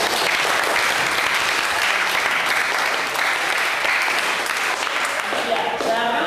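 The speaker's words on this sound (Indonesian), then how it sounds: "Ya, bagus sekali. Beri tepuk tangan." Steady applause fills a school classroom, many hands clapping together loudly and evenly for about six seconds with no talk over it.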